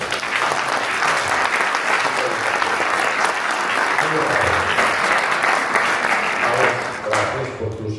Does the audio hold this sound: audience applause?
yes